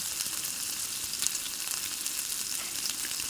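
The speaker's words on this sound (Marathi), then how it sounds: "मीठ घालून परत चांगलं परतून घ्यायचं." Onion with salt sautés in a hot pan, giving a steady, hissing sizzle throughout. It is moderately loud, close and even, with faint shifts as the pieces are turned and no talking.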